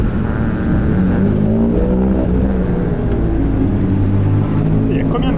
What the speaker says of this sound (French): ils décollent pour leur course sprint de 10 tours